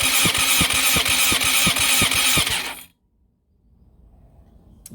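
Honda CBR600F4i motorcycle engine cranking over on the starter during a compression test, a loud steady whir with rhythmic compression pulses for nearly three seconds, then abruptly stopping into near silence.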